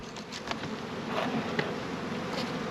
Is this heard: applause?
no